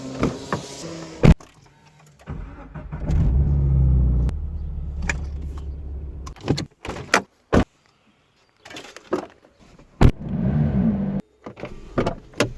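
Car engines start and rumble in short bursts between quiet gaps, with door thuds and clunks as cars are moved downstairs in an enclosed space.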